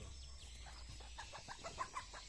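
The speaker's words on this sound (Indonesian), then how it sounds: "Oh, ayam juga minta guys, kita kasih guys tuh." A chicken begging for food near an outdoor meal clucks in a quick series of soft, short calls, faint against a low background hum.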